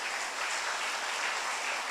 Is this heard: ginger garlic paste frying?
no